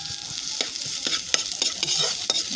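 Ginger fries in a hot pan while a utensil scrapes and stirs through it, giving a steady sizzle punctuated by about six sharp close strokes.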